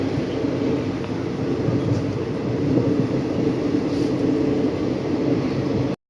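A continuous rumble of a moving train heading to Saphan Hin, steady rolling noise from inside the carriage, cutting off abruptly at the end.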